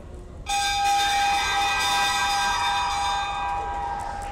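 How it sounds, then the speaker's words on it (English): Bell rung in a school gym on senior night at a varsity girls basketball game, one sustained bright metallic ringing that starts abruptly and holds steady over low crowd murmur. "they are going to ring the bell first"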